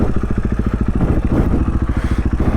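Dirt bike engine on a high-exposure cliff trail in Moab, running steadily at a low idle with a fast, regular putter and some clatter, loud and close while the rider dismounts.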